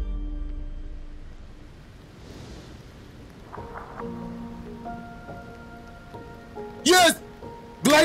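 Rain patters steadily in the video game Aloft, a soft wash of drops under faint game tones and music, with a couple of brief louder bursts near the end.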